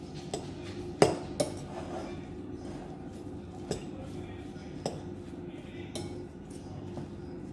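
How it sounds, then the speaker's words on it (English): Hash brown mixture being mixed in a kitchen bowl, with utensil clinks and scrapes against dishware, a few sharper taps standing out over a steady low background hum. "give it a good mix"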